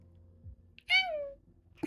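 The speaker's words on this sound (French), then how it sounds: "Et le petit Tsuki, qui est un grand chat et qui a 2 ans" A two-year-old cat meows once, a clear, close, falling meow at moderate loudness in a quiet indoor home setting, with a few faint soft noises around it.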